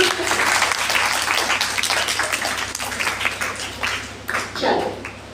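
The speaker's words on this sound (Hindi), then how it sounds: "तालियां बजाइए जो।" Audience applause at a children's personality development camp inauguration, a lively burst of many hands clapping that continues steadily, loosening into scattered uneven claps toward the end, with a voice briefly audible.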